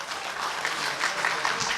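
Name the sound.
audience applause at a book launch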